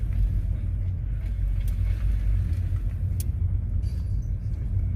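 Steady low rumble of a car's engine and road noise from inside the cabin during a learner's driving lesson in Leeds, continuous and fairly loud with no talk.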